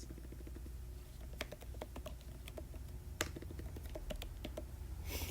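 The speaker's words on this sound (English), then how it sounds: "Double check what you're typing." Quick, steady typing on a computer keyboard, with a dense run of light key clicks and a few sharper taps, quiet and close, with no voices.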